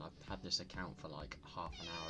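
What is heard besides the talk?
cat meowing in the background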